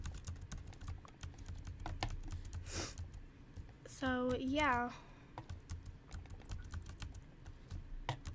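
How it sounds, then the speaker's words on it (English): Continuous rapid clicking of a computer keyboard being typed on, close and fairly quiet, with a brief spoken phrase partway through. "By the way, I know you can hear my keyboard."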